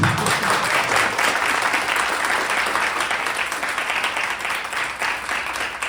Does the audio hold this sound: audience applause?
yes